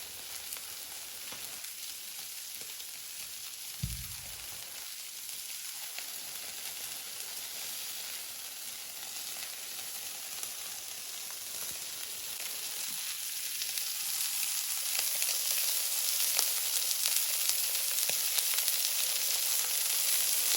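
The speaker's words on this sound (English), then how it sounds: "you can hear it sears perfectly on the first side" A big piece of beef searing on a hot griddle gives a steady, faint sizzling hiss that swells slightly toward the end, with no voices.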